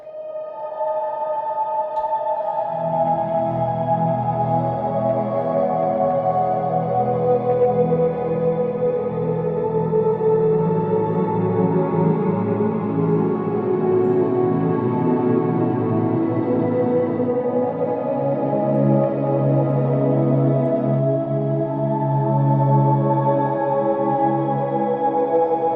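A slow guitar chord progression loops through a heavy reverb effect. Sustained, washed-out chords ring steadily and layer over each other for the whole stretch, with no talking.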